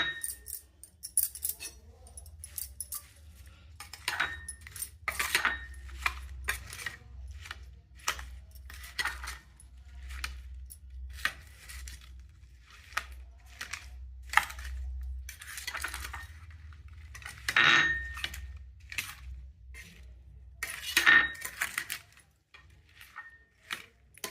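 A spoon stirs a homemade lemon and green chili pickle mix in a bowl, making faint, irregular clinks and scrapes over a low background hum.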